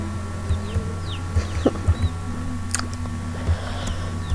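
Chickens in the Slime Rancher video game cluck in short, scattered bursts over a steady low ambient hum, with occasional faint bird chirps in the background.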